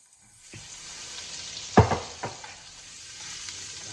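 Garlic frying in a pan hisses in a steady, close sizzle that starts suddenly, with a few louder bursts from stirring partway through and no talking.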